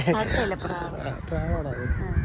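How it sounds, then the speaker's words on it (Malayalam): Crows caw loudly nearby in harsh, repeated calls while a person talks over them. "കാക്കൊക്കെ നോക്കിയേ"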